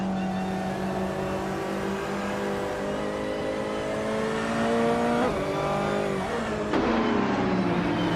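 Game race cars at Lime Rock Park, led by a 2018 Toyota FT1 GTE, drone and rev in layered engine tones, pitch dipping and climbing as they shift gears, with engines passing close by.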